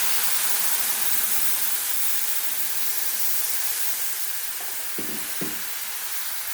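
Water poured into a pan of simmering papaya curry sets off a steady loud hiss and sizzle of steam that slowly eases, with a couple of soft knocks near the end.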